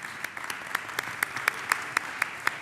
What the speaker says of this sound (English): Please give a big round of applause to our expert panelists.